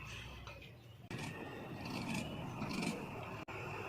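Scissors cut through blouse fabric along a marked line, a quiet close rasping and scraping glide broken by a couple of sharp clicks of the blades.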